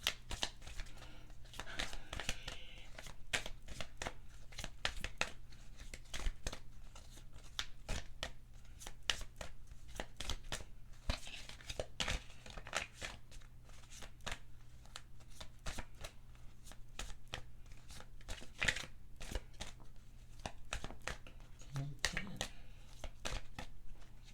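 Playing cards handled and shuffled in a tarot-style reading, a long run of dense riffling and soft slapping bursts. Quiet and close, with no talking.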